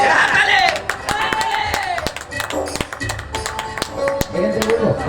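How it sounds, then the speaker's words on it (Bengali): Sharp claps and taps from an audience at a staged comedy show ring out irregularly amid crowd noise, shouting and a voice, fairly loud and close. "হাততালি মারবি।"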